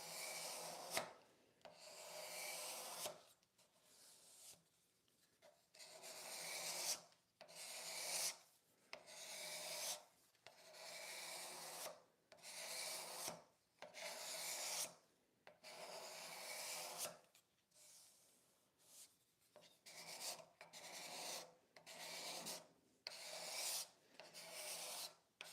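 Wood rasp shaping wooden furniture legs and taking off shavings, rubbing in a steady rhythm of long rough strokes with short pauses, close and alone.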